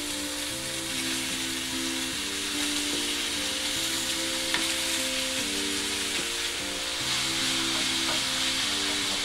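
Ground meat sizzles steadily in a pan while a spaghetti sauce is being made, a continuous loud frying hiss with a low tonal hum running underneath, and no talking.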